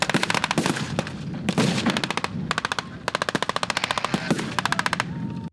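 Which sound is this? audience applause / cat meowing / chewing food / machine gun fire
machine gun fire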